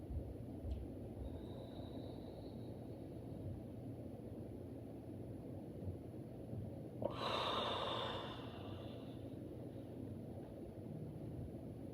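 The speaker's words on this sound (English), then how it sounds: "Very rhythmic, very focused breath." A single, soft, airy Pilates breath is exhaled partway through a quiet stretch of low background hum, from a no-equipment exercise class.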